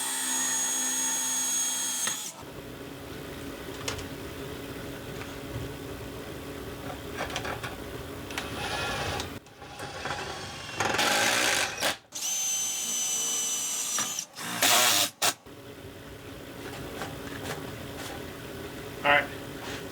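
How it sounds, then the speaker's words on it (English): A power drill bores a pilot hole while a hot tub cover is installed, whirring loudly in several bursts broken by short pauses, with speech heard between runs. "I'm just going to end up putting me a little pilot hole in here."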